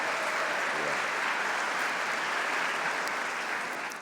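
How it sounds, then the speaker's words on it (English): An audience at an accounting convocation ceremony breaks into full, continuous applause, a thick, even roar of clapping that holds steady throughout and tapers just at the end. "Can I check where you're at with some applause?"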